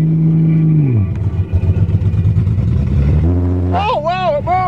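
A Toyota Cressida engine idles, then revs and climbs in pitch as the car pulls away. The engine is loud and close, with brief clattering, and a voice speaks over it near the end.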